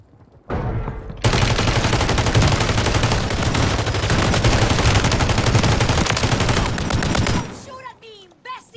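Sustained rapid gunfire from a video game battle royale, dense bursts of automatic weapons running for about six seconds, loud and continuous, with a voice shouting over it near the start.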